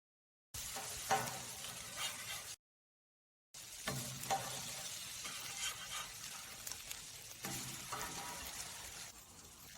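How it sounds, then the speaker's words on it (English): A potato pancake fries on a greased grill griddle outdoors, a close, soft sizzle and crackle that cuts out briefly for a moment of silence, then resumes steadily without any voices. "When flipping the potato pancake, you need to grease the griddle a bit again."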